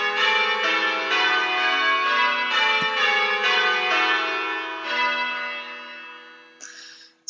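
Church bells ring loudly in a rapid, ordered sequence of changes through a plain course of Little Bob Minor, then the striking stops and the last tones fade away.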